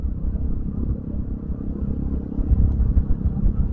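Manual clutch motorcycle cruising in fifth gear, a low steady engine rumble with road noise that swells slightly toward the end, no talk over it.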